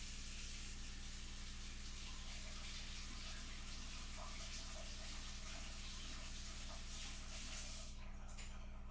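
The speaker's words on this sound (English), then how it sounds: "I go wash the brush" Water runs steadily from a tap as a paint brush is washed beneath it, a constant close hiss and spray that continues unbroken throughout.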